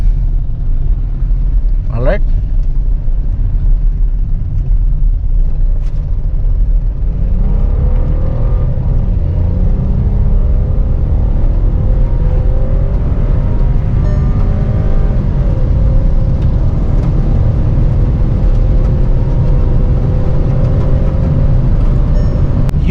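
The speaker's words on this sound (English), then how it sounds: "Just listen to the engine noise guys." A Volkswagen Virtus GT Line's engine revs in manual mode in third gear, a steady loud in-cabin drone that climbs in pitch over time, with a brief spoken word near the start.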